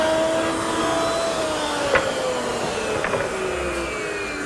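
A router runs a bullnose profile along the edge of cherry wood, giving a loud, steady motor whine with a continuous cutting hiss that holds at the same level throughout.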